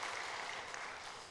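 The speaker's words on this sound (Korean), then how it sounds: "박수 한번 보내주십시오" A church congregation at an afternoon praise service claps together, a short, moderately faint burst of applause that tapers slightly toward the end.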